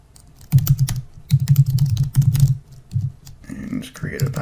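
Rapid bursts of typing on a computer keyboard while signing up for email, clattering in several quick runs with brief pauses and a little background voice near the end.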